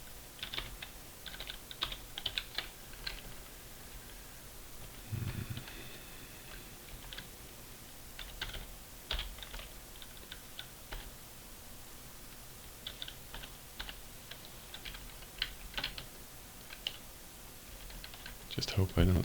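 Keystrokes on a computer keyboard as numbers are entered, coming in irregular bursts of light clicks at moderate distance, with quiet room tone between the runs and no talk.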